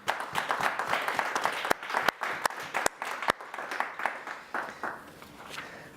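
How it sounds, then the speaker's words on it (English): A modest audience at a Startup Grind OKC event applauds a speaker. The claps are fairly distinct and uneven, with a few sharp, loud individual smacks standing out before the clapping thins toward the end. "let's give a big round of applause for Ken Parker, everyone"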